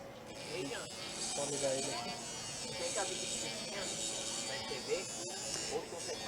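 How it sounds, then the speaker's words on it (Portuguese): An electric knife sharpener running, a buzzing mechanical whir with ratcheting grinding texture, heard at moderate distance under someone speaking and other people talking nearby. "Tem uma sacada bem interessante que é um amolador de facas."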